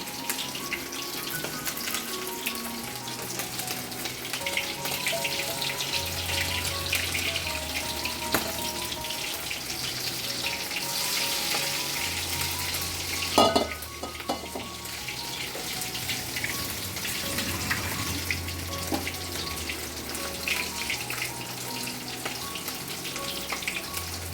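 Food frying in hot oil for a Jamai Shashthi meal, a steady crackling sizzle that runs throughout with occasional louder pops and clatter, close and continuous with no talking.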